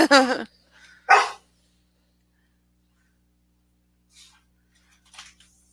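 A dog barks loudly and very close by, two sharp bursts in quick succession, followed by a few faint, distant yips in an otherwise quiet room.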